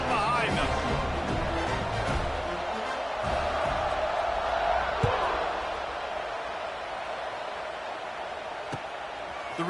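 A football video game crowd roars and cheers steadily before kickoff, a broad continuous stadium din with occasional thuds, while a commentator talks over it.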